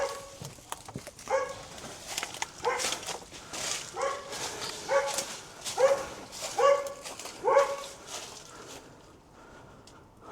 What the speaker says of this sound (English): dogs will probably be going off their heads as you're walking behind these houses